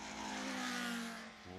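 Caterham Super CSR race cars at the Quarry braking area, engines howling in a steady high-pitched drone that dips briefly as they brake, then picks up again, close and loud.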